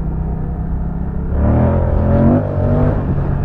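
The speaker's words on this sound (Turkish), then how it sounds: "alt devirler dolu dolu yeni motor yepyeni motor vites geçişleri çok güzel" Moto Guzzi V100 Mandello motorcycle engine revving up through gear shifts, a steady mid-level drone that swells louder midway with rising harmonic sweeps, then settles back, heard alone.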